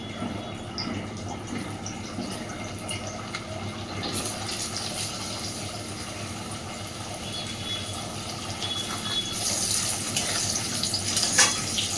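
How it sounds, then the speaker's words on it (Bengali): Potatoes fry in hot oil with a dried red chilli for a Bengali fish-head cabbage curry, making a steady crackling sizzle with a few louder bursts of spattering. "আলুগুলো এবার খুব সুন্দর করে ভেজে নেব।"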